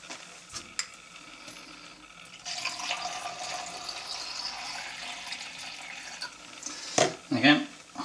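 Tap water runs steadily for a few seconds while rinsing 4x5 film in a Jobo CPE2 processor, rising to a louder splashing burst near the end, with a voice speaking over it.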